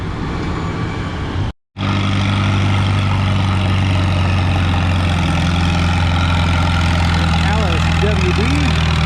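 At a spring sled pull, the engine of an M7060 four-wheel-drive tractor runs with a loud, steady low drone that continues across the whole stretch, with only a momentary dropout.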